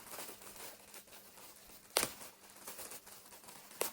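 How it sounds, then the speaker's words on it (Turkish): Plastic packaging crinkles softly, then two sharp tearing rips stand out, quiet and close. "kargo poşetleri açmak çok zor arkadaşlar."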